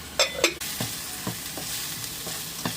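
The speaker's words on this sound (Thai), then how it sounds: "เรามาทำผัดผัก" Vegetables stir-fried in a pan with little oil give a steady loud sizzle, broken by the sharp scrape and clack of a spatula tossing them at irregular intervals.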